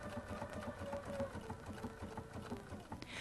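A Bernina Artista 180 sewing machine stitching a buttonhole, running steadily with a fast, even mechanical chatter and rhythmic needle clicks, close but fairly quiet, alone without talk.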